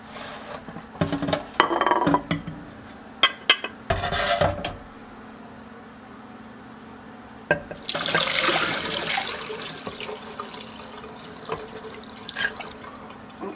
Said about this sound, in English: pour that into the bone water jar